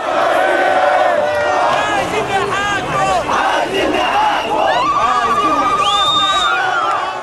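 Egyptian crowd celebrating in the streets of Cairo: dense, loud roar of many voices with cheering, whoops, shouted singing and blaring car horns, a long steady horn tone rising above the din.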